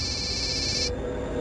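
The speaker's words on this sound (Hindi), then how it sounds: "किसी का फोन बज रहा है।" A phone ringtone plays steadily for just under a second, then cuts off abruptly, leaving a quiet room with no one talking.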